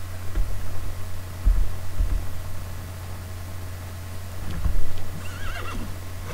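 A horse in The Sims 3 whinnies loudly in a shaky, rising call, with scattered hoof clip-clops underneath and a constant electrical hum throughout; no talking.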